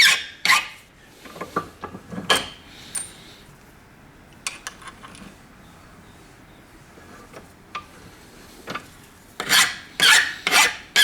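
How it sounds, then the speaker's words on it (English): Old screws from an 1865 Forster & Andrews Victorian pipe organ being scraped clean: short, harsh rasping strokes in irregular bursts, close and fairly loud, separated by quiet gaps and a few light clinks. "This scraping is going through my teeth."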